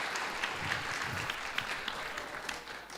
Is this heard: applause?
yes